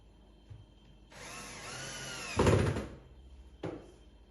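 A power drill or screwdriver drives a screw through a roller blind cleat into a wall. The close whirring rises in pitch, then a louder grinding burst follows, and a short final buzz comes after a pause.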